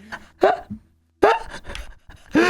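Dog panting in the Roblox video game, heard as a few short, breathy bursts with whiny, yelping tones, separated by brief silences.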